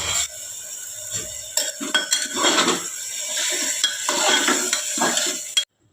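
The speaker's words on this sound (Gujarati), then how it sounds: "હવે બધું હલાવીને બરાબર મિક્સ કરી દઈશું।" A spoon stirs turmeric, spices and pure ghee in a metal cooking pot while making wheat khichdi. Repeated close clinks and scrapes against the pot sound over a soft sizzle, with no talking.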